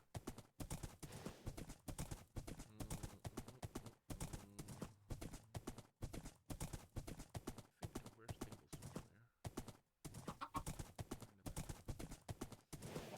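Horse hooves in a video game thud and clatter in a regular, driving rhythm that fills the whole stretch, with a voice speaking over part of it.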